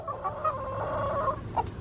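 Chickens cluck and murmur nearby, a busy run of soft throaty calls ending in a sharper squawk.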